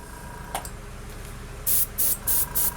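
Short hissing bursts of an airbrush spraying craft acrylic paint, a brief test puff followed by four steady, evenly spaced sprays close up, with no talking.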